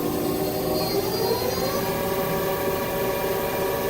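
A 2017 Mazak QTU350MY CNC lathe spindle spins up, a steady whirring machine tone rising in pitch as the RPM climbs, loud and continuous with no talk.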